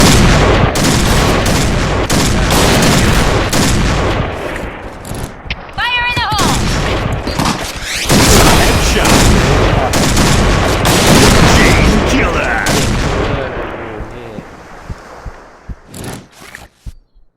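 Barrett M82A1 rifle fire in the Point Blank video game sounds as loud, dense volleys of gunshots and booms, close and continuous for most of the stretch, then thinning to a few scattered shots, with a voice talking over it.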